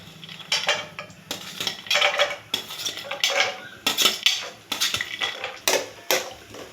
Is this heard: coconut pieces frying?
yes